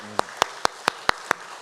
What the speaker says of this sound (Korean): 우리 한번 감사의 박수로 올려드리겠습니다